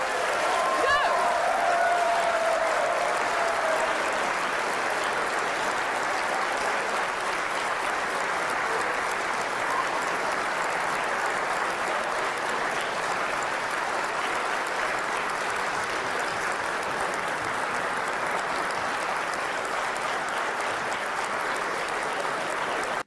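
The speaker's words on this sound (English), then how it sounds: "they just all clapped and cheered" A large audience claps and cheers loudly and continuously for over twenty seconds, a dense wash of applause with a brief whistle or shout near the start.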